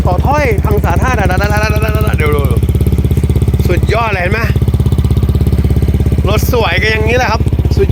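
A motorcycle engine idling at a motorcycle auction, with a steady, close chugging drone, while a person talks loudly over it in short bursts.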